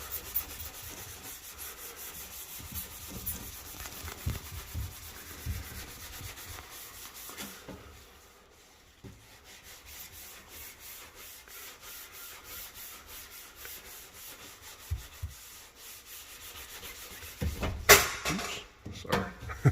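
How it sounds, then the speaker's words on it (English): Scrubbing grease off a sprayed surface during deep house cleaning: soft, irregular rubbing strokes close by, fairly quiet, pausing briefly midway before a few louder scrubs near the end. "It's really just scrubbing at it a little bit"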